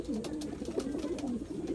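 Pigeons cooing softly in low, throaty, repeated murmurs, close by, with faint background noise.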